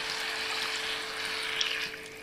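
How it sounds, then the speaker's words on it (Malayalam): Water is poured from a glass into a pan of liver cooking in a home kitchen, a faint continuous splashing and hiss under a steady background hum. "ഇനി വേകാനായിട്ട് 1 ഗ്ലാസ് വെള്ളം ഒഴിച്ചു കൊടുക്കുക."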